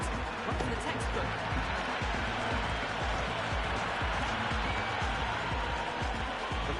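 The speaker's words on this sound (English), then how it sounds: "The crowd are really getting quite raucous." Raucous cricket stadium crowd during a KKR vs CSK match, a dense, steady roar of many voices and scattered claps that carries on throughout.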